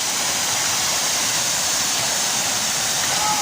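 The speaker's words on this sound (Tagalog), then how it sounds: "Sobrang lakas ng alon." Rushing water at Liman waterfall in Bulan, Sorsogon, a loud steady broadband roar of falling water, close and continuous with no talk over it.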